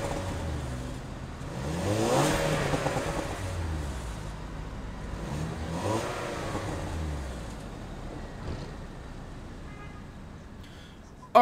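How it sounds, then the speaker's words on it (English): A 2016 Range Rover Evoque's 2-liter engine revs up twice, each rev climbing in pitch and then falling back, before settling into a quieter, fading idle. "But let's hear this engine for a second."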